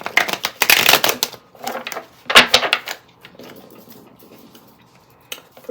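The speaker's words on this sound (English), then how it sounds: "I have so much trouble shuffling these cards today." Tarot cards being shuffled by hand, a series of quick riffling bursts close to the microphone that trail off into quieter handling noise.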